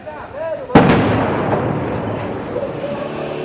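A single loud, sharp blast from weapons fire during armed clashes between security forces and attackers booms close by, then trails into a long rumbling decay with voices in the background.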